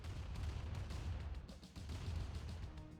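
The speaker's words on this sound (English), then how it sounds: "We do see the artillery now. Absolutely wiping out those grenadiers." Artillery fire in a real-time strategy game, with a steady rumble of deep, booming shell impacts and blasts repeating close together under a dense battle din, and almost no talk.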